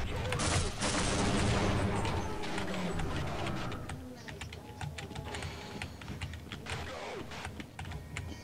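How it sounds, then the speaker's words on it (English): Gunfire in the Half-Life video game, heard as a dense burst of rapid shots early on that thins into scattered, sharp cracks, with a voice talking now and then. "I hear guns."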